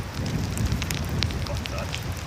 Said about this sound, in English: No wind, but some rain.